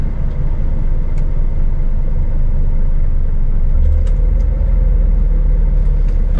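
A KDM truck engine strains in a loud, steady low rumble as a wheel sits stuck in sand, droning on throughout with a brief deeper surge partway through.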